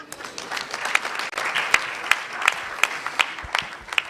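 Audience applause at a national science and maths quiz championship launch, a lively burst of clapping with sharp, distinct claps standing out near the front of a moderate crowd.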